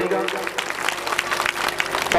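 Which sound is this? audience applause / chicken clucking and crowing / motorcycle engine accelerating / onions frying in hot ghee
audience applause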